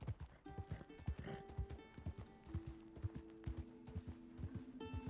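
Horse hooves clip-clop steadily in Red Dead Redemption 2, a skittish tier-one horse trotting along with a near, rhythmic beat of hoofbeats and occasional tack rattles over a faint game background.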